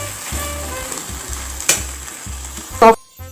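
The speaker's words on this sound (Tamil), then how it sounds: "இந்த சாஸோட சிக்கனை ஈவனாக நல்லா மிக்ஸ் பண்ணி எடுத்துக்கலாம்." Fried chicken pieces being stirred into Manchurian sauce in a pan, giving a steady close sizzle with scraping and clinking spoon strokes, a sharp clatter near the end before it cuts off.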